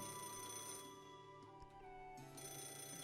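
A phone rings steadily in the Fate/Grand Order game, a faint electronic ringtone repeating with even pulses and a brief dip midway, with no voices over it.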